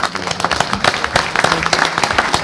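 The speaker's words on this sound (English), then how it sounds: "everybody give him a real round of applause" Audience applause at a roundtable event, a moderate crowd clapping with uneven, choppy rhythm and distinct individual claps standing out.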